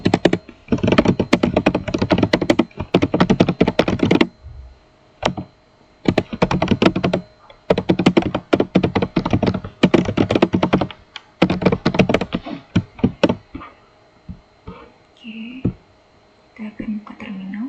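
Rapid bursts of typing on a computer keyboard while entering commands in a terminal, close and crisp, in several runs separated by brief pauses, trailing off into sparser taps near the end.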